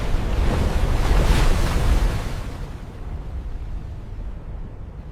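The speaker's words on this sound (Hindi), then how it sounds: "समंदर बिफर रहे हैं।" Raging sea waves as a sound effect, a loud rushing surge of surf and wind that swells near the start, then fades to a quieter continuous wash, with no voices.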